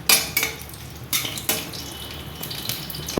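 Marinated chicken goes into hot oil with whole garam masala. Sharp clatters of metal utensil against the pan break up a soft frying hiss, with several distinct knocks spread across the moment.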